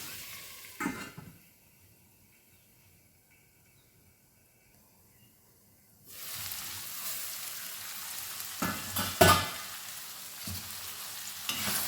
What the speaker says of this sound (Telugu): ఇది కొంచెం వేగనిద్దాము తాలింపులో.